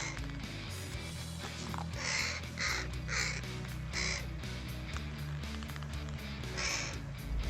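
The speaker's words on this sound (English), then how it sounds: "like this crow that comes back every day to play ball with the dog and its owner" A crow caws again and again in loud, distinct bursts over a steady, busy background hum, with no talking.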